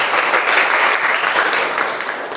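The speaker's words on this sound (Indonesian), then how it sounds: "beri tepuk tangan untuk kita semua" Students in a classroom applaud together, a dense, steady clapping that stays loud for the whole stretch and fades slightly at the end, with no talk over it.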